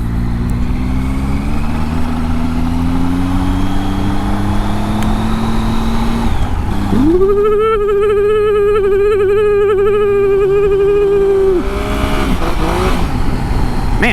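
A Triumph Tiger motorcycle rides a gravel road, its engine droning steadily amid wind and road noise, then its pitch rises sharply and holds as it accelerates before falling away.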